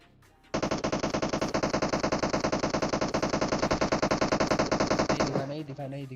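Automatic gunfire in PUBG Mobile rips out as one sustained, rapid burst lasting about five seconds, loud and close, then cuts off into a short tail of quieter sounds.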